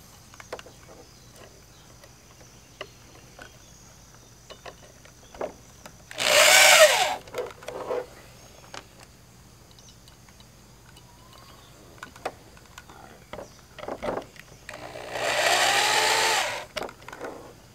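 A power drill drives flat-end screws into a 1987 Powell Peralta Caballero skateboard deck in two separate bursts of loud, close motor whine, each lasting about a second or two. Quiet handling clicks and taps fill the gaps, and no one speaks.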